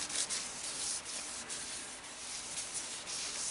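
Sandpaper rubs against a turned cherry wood bowl with bark on it, making a close, continuous scratchy hiss with slight rhythmic swells and no talking.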